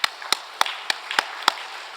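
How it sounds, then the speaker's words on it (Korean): A church congregation claps in unison, six crisp, evenly spaced claps about a third of a second apart, sharp and close with no talking over them. "박수 한번 올려드리면 좋겠습니다."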